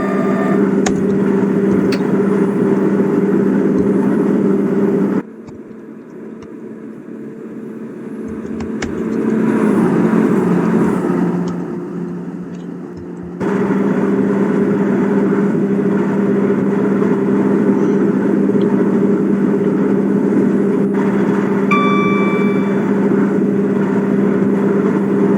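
Diesel multiple-unit drone of a British Rail Class 158 in the OpenBVE train simulator, a steady loud engine hum that drops away mid-run, swells briefly, then returns at full level, with no talking.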